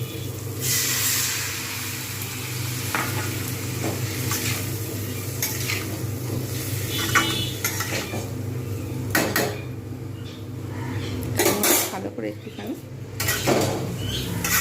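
Potato and cauliflower curry is stirred in a pan with a metal spatula, repeated clinks and scrapes over a steady sizzle and hiss.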